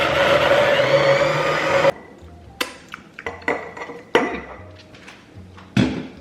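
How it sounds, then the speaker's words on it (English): Immersion blender whirring steadily through a sauce for about two seconds, then stopping, followed by clinks and knocks of kitchen utensils and dishes. "I'm just gonna use my immersion blender to blend it all up"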